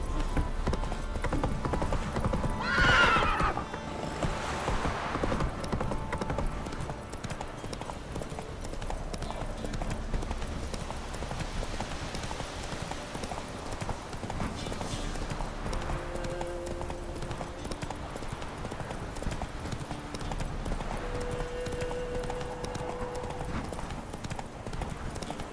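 Roach the horse galloping in The Witcher 3, a steady rapid clip-clop of hooves running continuously under ambient game sound, with a brief voice near the start.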